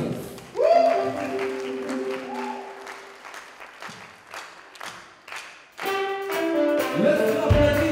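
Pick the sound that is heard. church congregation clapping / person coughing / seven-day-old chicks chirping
church congregation clapping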